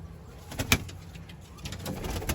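Pigeons coo softly nearby in a pigeon coop over a low background hum, with a brief flutter or scrape partway through.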